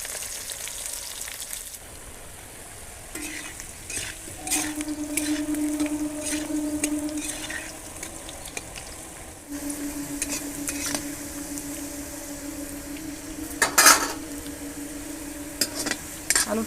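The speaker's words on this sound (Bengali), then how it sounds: "আলুটা ভাজা হয়ে গেছে, এবার তুলে দিচ্ছি।" Potatoes fry in oil in a very hot wok and are stirred, a crackling sizzle punctuated by scraping and clinking of the spatula against the metal, with no one speaking.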